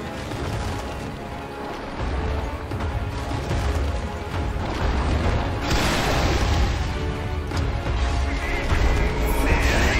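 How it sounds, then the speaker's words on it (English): Explosion in the online action game Monster Hunter Online during a monster fight, a dense rumbling boom and crash spread across the whole stretch, loud and sustained with layered game effects and some talk. "Ah, that's an explosion."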